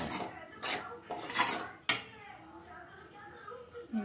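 A spoon stirring curd into a brinjal curry in a pot, with several clinks and scrapes of metal on metal, a sharp knock near the middle, and quiet talk in between.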